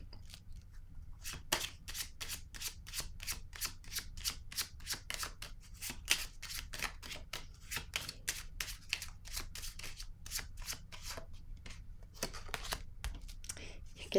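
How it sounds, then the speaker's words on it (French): Tarot cards are handled and laid down, producing a long run of quick, crisp card snaps and flicks at close range, steady and rhythmic in a quiet room. "Là, je vais déposer une carte sur ces deux-là."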